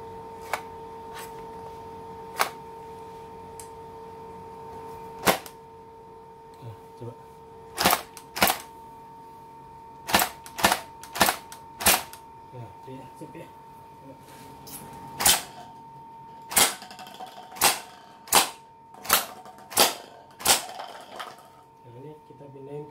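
An AKM 47 airsoft gun with gas blowback fires single shots, each a sharp mechanical snap, first spaced out and then in quicker bunches, with a voice talking between shots.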